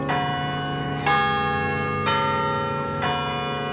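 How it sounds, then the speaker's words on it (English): Church bells ring atop Guardian Angels Catholic Church in Manistee, with four loud, evenly spaced strikes about a second apart, each leaving a long, humming tone that rings on beneath the next. "The bells atop Guardian Angels Catholic Church in Manistee rang for the first time in nearly 10 years Sunday."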